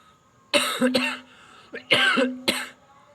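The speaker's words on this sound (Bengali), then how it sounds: "ঠান্ডা লেগে গেছে, কাশি হচ্ছে।" Several harsh, close coughs from a person with a cold, in two clusters, each a quick run of two or three rough barks with brief quiet between them.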